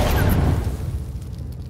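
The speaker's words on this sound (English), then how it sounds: "Explosion sound effects has also changed by giving it a boomy punch bass response instead of a high-pitched." A boomy explosion in The Last of Us Remastered hits with a deep bass punch, then rumbles and decays over a second or two, loud and close with no voices.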